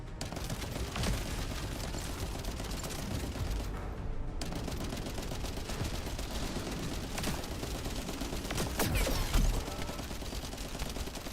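Rapid gunfire from the Tamer weapon in the video game The First Descendant, a dense sustained burst of shots that runs almost the whole time with only a brief gap, loud and continuous over game noise.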